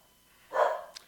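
A single dog bark or yip sounds once, short and fairly close, with a fainter high squeak just after it against a quiet room background.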